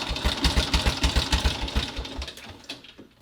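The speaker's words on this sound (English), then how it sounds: "So 1912 runs like a watch. Quiet engine, really, for what it is." A 111-year-old 1912 Excelsior motorcycle engine idling up close, a quick, even, mechanical putter of regular firing pulses that loosens and fades toward the end.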